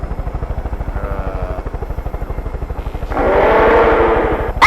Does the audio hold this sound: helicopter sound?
yes